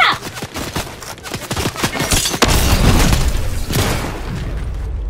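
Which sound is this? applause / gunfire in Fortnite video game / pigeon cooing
gunfire in Fortnite video game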